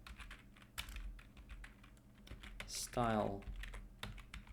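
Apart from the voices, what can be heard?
typing on a computer keyboard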